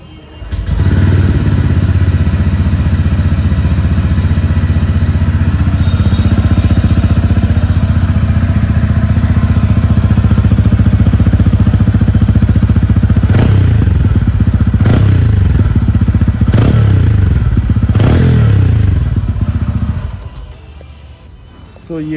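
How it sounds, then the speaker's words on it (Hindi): A TVS Ronin 225 motorcycle idles steadily with a loud, low exhaust rumble, then is revved in several sharp throttle blips before the engine cuts off near the end. "तो अभी आपको इसकी एग्जॉस्ट नोट सुनाते हैं फटाक से।"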